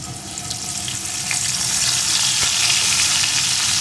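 Chopped onion frying with a pinch of asafoetida in hot oil for a pabda fish curry, a steady close sizzle with bright crackling that swells slightly louder partway through and holds without any voices.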